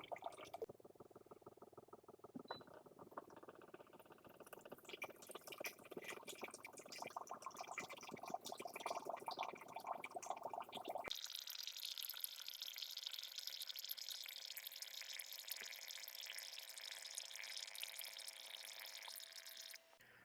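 A countertop reverse osmosis water filter dispensing water: a steady pump whir and trickle runs throughout, then shifts abruptly partway into a brighter, hissing flow that continues to the end.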